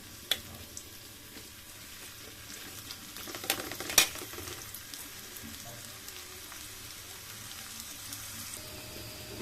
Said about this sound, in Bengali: পেঁয়াজগুলো আগে একটু ভেজে নিই